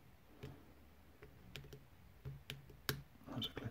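Faint, sharp pin clicks sound while an American 1100 padlock is picked with a tension wrench. The small ticks come close together and irregularly, with a light scraping between them.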